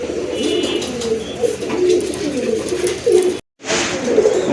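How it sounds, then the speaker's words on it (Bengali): A pair of pigeons cooing continuously and close by in low rolling tones, with a brief gap of silence near the end before the cooing resumes. "মাশাআল্লাহ, খুবই চমৎকার এক জোড়া কবুতর"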